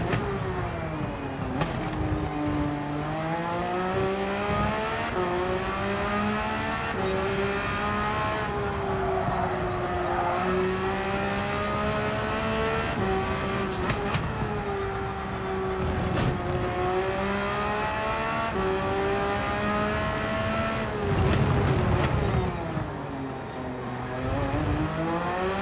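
Race car engines in the video game Gran Turismo 7 drone loudly and continuously, their pitch climbing and falling through repeated gear shifts and revs, with a brief tire squeal and no talking.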